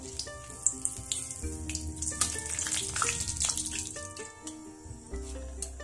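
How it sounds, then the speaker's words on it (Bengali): Two dried red chillies and a bay leaf sizzle in hot oil over a low flame for a Bengali mutton liver curry, with a crackling fry and clinks of utensils nearby, fairly close. "এই তেলের মধ্যে দেব 2টো শুকনো লঙ্কা আর 1টা তেজপাতা।"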